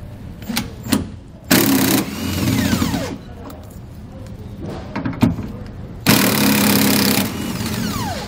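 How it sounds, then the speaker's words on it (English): Power tool with an 18 millimeter socket removing nuts from a Dexter heavy-duty tandem-axle trailer suspension, heard as two loud sustained whirring bursts with clicks and clunks of metal between them, close by. "The nuts are on the inside here, so we're going to remove those using an 18 millimeter socket."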